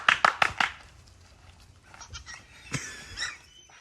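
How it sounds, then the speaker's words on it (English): A myotonic fainting goat gives a few sharp, close bleats in quick succession, followed by quieter scuffling and a fainter cry. "All you have to do is give the goat a good scare, and it'll seize up and fall over every time."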